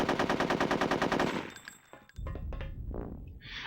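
Rapid machine gun turret fire from Conker's Bad Fur Day rattles loudly in a steady stream for about a second and a half, then gives way to scattered game thuds and clanks.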